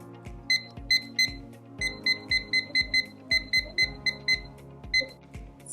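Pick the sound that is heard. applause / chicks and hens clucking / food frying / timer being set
timer being set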